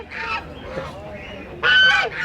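A Chinese goose honking in loud bursts at a poultry market in Fatullah, Bangladesh, a few calls close by, the last one the loudest, with no talk.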